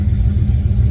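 Boosted Ford Mustang engine idling while warming up, a loud, steady low rumble with a slightly lumpy pulse, close by and unaccompanied by speech.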